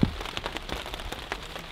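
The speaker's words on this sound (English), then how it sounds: "Rained all night, nonstop." Steady rain pattering on a tent overnight during fall camping in a rainstorm, a dense, close patter of drops with scattered louder taps and no voices.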